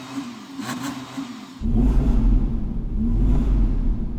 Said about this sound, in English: Can you rev up your engine, Daniel?